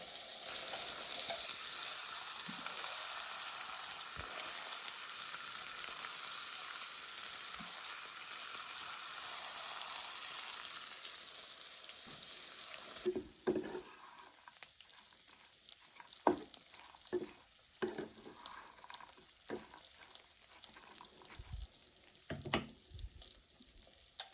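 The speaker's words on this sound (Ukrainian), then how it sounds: "Сухарики час від часу помішую." Croutons fry in oil with a steady, dense sizzle for about half the time. The sizzle then drops away, leaving sharp clicks and scrapes of a utensil stirring them in the pan.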